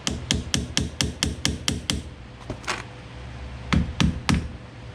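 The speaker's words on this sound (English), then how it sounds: "I have to use a soft hammer so that way it won't dent the cap." A steady series of sharp taps from a soft hammer seating a cap evenly, about ten quick evenly spaced blows, then a pause and a few more, close and clear.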